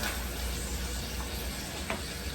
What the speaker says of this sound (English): it's going to take away some of the sizzling